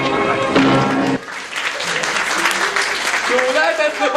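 An audience applauds at an amateur theatre play, a close burst of clapping and voices that drops abruptly after about a second, followed by quieter clapping and cheering mixed with talk.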